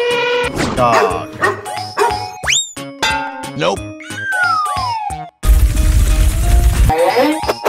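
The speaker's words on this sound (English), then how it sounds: "Dog." Cartoon dog barking amid a busy mix of animated animal sound effects, with boings, whistles and a sliding tone, loud and continuous throughout.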